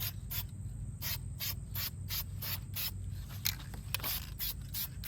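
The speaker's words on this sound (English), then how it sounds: "We're gonna spray this, a few coats of this on there" Short bursts of aerosol spray on car brake calipers during painting, a quick rhythmic series of hissing pulses, close and steady, with no talking.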